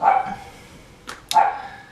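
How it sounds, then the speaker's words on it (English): A dog barks a few times, sharp close yips separated by brief pauses, with no talking. "dogs are barking."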